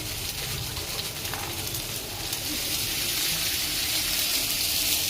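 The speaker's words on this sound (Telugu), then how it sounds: "దాని నిండా నీళ్ళు పోసుకోవాలి" Water pours steadily into a vessel, a continuous rushing hiss that fills the whole stretch without pause.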